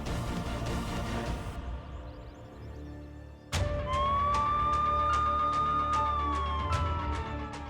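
A police car siren wails through a residential neighbourhood, starting abruptly after a few seconds of quieter background and then sweeping up and down loudly and steadily to the end.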